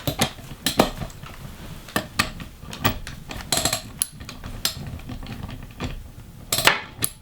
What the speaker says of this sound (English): I just went and got another socket set to get this tightened down.